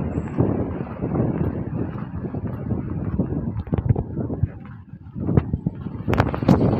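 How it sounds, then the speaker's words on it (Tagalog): Strong wind along the Abu Dhabi corniche buffets the microphone in a continuous rumbling roar, gusting unevenly and swelling louder toward the end, with occasional sharp clicks and rustles close by. "Lakas ang hangin na yan."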